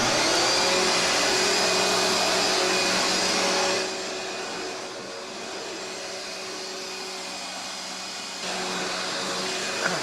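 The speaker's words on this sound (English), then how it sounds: "That is me vacuuming the virtual gallery." A vacuum cleaner runs steadily and loudly as a gallery floor is vacuumed, its motor drone and airflow hiss continuous throughout, dipping slightly in the middle before rising again.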